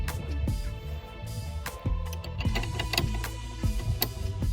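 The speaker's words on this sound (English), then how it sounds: "keep pressure on it while I turn with the ratchet" A ratchet turns a strut brace bolt on a Saab 9-3, giving close, sharp metallic clicks in short uneven bursts, with several separate strokes and faint background noise between them.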